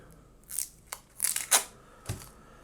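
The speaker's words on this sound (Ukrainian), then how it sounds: "Так, знімаємо цей малярний скотч, він нам вже не потрібний." Several short ripping strips as masking tape is peeled off a phone, quick bursts with brief pauses between them, close and clear in a quiet room.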